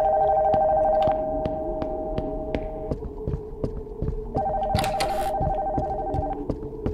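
Telephone ringing in a horror video game, a steady electronic ring sounding in two long bursts separated by a pause, over a low throbbing hum and scattered sharp ticks.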